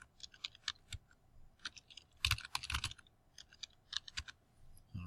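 A password typed on a computer keyboard while creating a Google account, quick close clicking keystrokes in short irregular bursts with pauses, over a quiet background and no voices.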